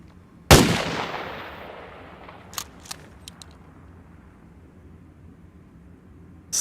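A single loud shotgun blast from the survival game DayZ cracks close up and rings off in a long fading tail, followed by a few faint mechanical clicks and another sharp hit at the very end.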